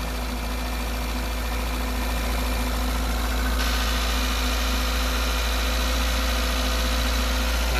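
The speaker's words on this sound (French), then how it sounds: "J'ai baissé un peu le régime moteur." A Peugeot 205 with a TU petrol engine idles at lowered revs, a steady low mechanical drone with light vibration that stays constant and close, the tone shifting slightly partway through.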